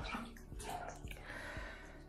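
Water sloshes in a bathtub as an arm moves beneath the surface, a close, continuous watery swish with several soft splashing pulses at irregular intervals.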